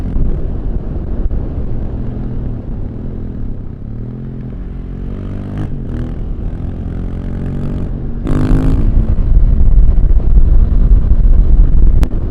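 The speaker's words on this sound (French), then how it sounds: "Oh, elle fait un bon bruit la bécane là." A motorcycle engine drones steadily on a country road, rising in a couple of quick revving sweeps before swelling louder toward the end, with heavy wind rush and no talk.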